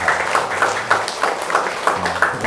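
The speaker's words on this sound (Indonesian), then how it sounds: "Tepuk tangan dong." Audience applause at a corporate anniversary talk show in Bali, a steady patter of many hands clapping with periodic louder bursts, moderately close and continuous throughout.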